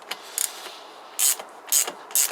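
A ratchet wrench tightens the rear shock bolt on a Kawasaki GPZ500S motorcycle, giving short, sharp clicking bursts in a few separate pulls, close and clear, with no talk.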